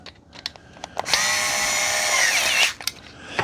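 Nut on an under-sink organizer rack being tightened by a power driver, which whirs steadily for about a second and a half between a few sharp taps and clicks, close up, no talking.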